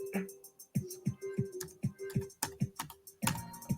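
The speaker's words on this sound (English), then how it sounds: "Let me just type this in here." Typing on a computer keyboard, with sharp, quiet key clicks in short, uneven bursts close by and no speech over them.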